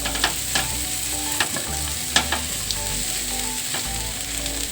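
Spicy garlic potatoes with green chillies sizzle and fry steadily in a pan, with occasional sharp crackles and scraping stirs close by.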